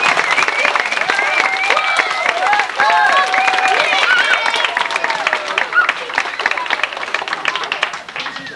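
An audience gives a big round of applause, dense clapping mixed with crowd noise and excited voices and whistles over it, sustained and loud for the whole stretch.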